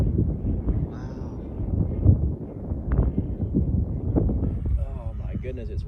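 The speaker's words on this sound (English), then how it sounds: "Oh my goodness, it's windy." Strong wind buffets the microphone outdoors at an RC plane flying field, a steady low rumble across the clip with a voice talking over it.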